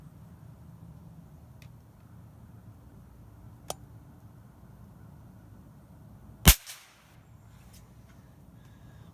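A .22 rifle firing CCI Quiet-22 subsonic ammunition gives a single sharp, fairly loud crack that decays quickly, with a faint tick a few seconds earlier, over low steady background noise.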